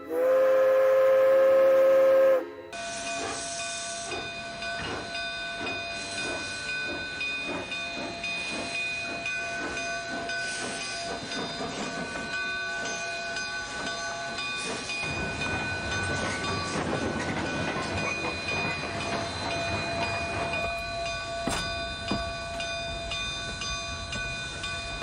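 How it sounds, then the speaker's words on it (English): A steam engine train on a narrow-gauge railway hauls a line of coaches, with a steady rumble, hissing steam and rhythmic wheel clatter that run close and loud throughout. A brief tonal whistle sounds at the start. "Skarloey pulled Duncan and his coaches safely through"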